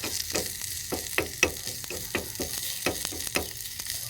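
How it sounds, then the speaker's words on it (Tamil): Curry leaves and crushed garlic fry in a pan with a steady, quiet sizzle, punctuated by regular scraping stir strokes, with no talking. "கருவேப்பிலை, இடித்து வச்ச பூண்டு, இது நல்லா கொஞ்சம் ஃப்ரை ஆகட்டும்"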